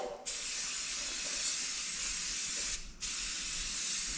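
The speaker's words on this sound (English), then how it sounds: "we're just gonna spray it black" Two long bursts of black aerosol spray paint on a wrecker part, a steady close hiss separated by a brief pause.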